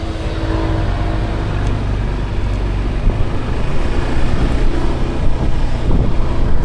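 Wind buffets the microphone in a steady, loud roar while a motorbike is ridden along the road, with low engine and road rumble running continuously underneath and no talk.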